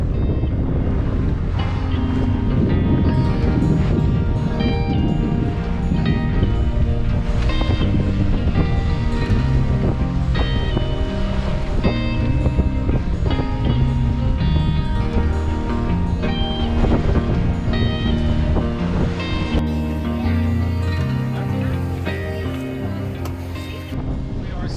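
A 33 ft sailboat moves through calm water, with steady rushing water and wind noise holding an even level throughout, no distinct voices.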